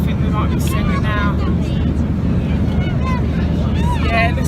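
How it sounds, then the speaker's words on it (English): Airliner engines drone loud and steady inside the cabin during descent, a constant low rumble under voices talking. "the engines make a bit of a funny noise"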